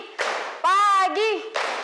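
A group performs the rhythmic 'tepuk pagi' patterned clap in short bursts, crisp clapping separated by brief gaps, with sung or chanted voices in between.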